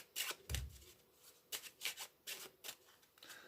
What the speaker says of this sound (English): So you can let them shuffle the packet.